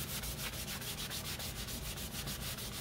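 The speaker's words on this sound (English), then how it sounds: "just give it a rub" Colour being rubbed onto a cereal-box journal cover, a close, steady back-and-forth scrubbing with a regular rhythm of about six strokes per second, heard alone.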